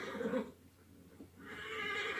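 A horse whinnies in Assassin's Creed Origins, a rising neigh heard twice with a short gap, over a soft steady background.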